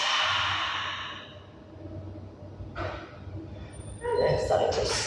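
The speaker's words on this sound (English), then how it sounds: "Taking a nice deep breath in. And all the way out." A slow, deep yoga breath taken close by, with a soft drawn-in inhale followed by a longer, airy exhale, quiet and unhurried, with no other sound around it.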